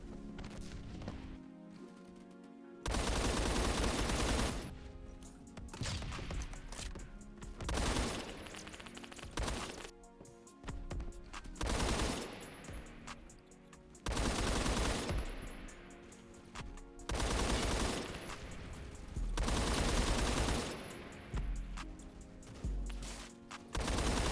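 Bursts of AK rifle fire in the video game Phantom Forces, loud and close, repeated full-auto volleys of a few seconds each separated by short pauses, with heavy recoil-driven rattle.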